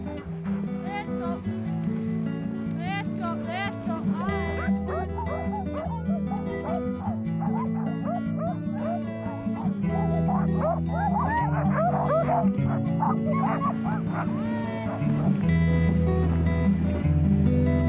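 A pack of husky sled dogs in snow yips, whines and barks excitedly and continuously, high-pitched whimpers layered over a steady low hum, with occasional human speech in French mixed in.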